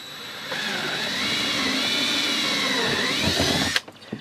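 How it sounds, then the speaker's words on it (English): A power drill whines at a high pitch, its tone dipping slightly as it bites through a honeycomb plastic vehicle panel, then cuts off with a few clunks. "I've got to drill straight through mine."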